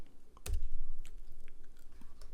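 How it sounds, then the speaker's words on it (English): Typing on a computer keyboard, a sharp near key strike followed by scattered lighter clicks over a low background hum. "and typing whatever you want."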